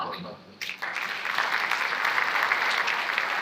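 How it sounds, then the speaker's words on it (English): Audience applause for a guest speaker at a labour market forum, starting abruptly after a brief quiet moment and building into a steady, dense wash of clapping that holds to the end. "Another round of applause, ladies and gentlemen, for guest speaker."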